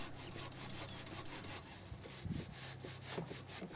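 Hand scrubbing of a greasy part to clean and degrease it: quiet, rhythmic back-and-forth rubbing strokes, close and faint, with no talking.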